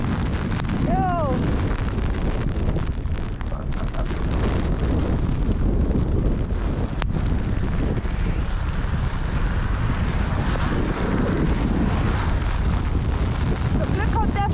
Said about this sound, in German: Zum Glück kommt der Wind von hinten.